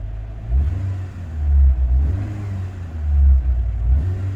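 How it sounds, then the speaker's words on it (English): A Renault Clio engine runs at a steady idle, then is revved twice in smooth, loud, close swells that settle back to a low rumble. "Now that is a lovely smooth engine."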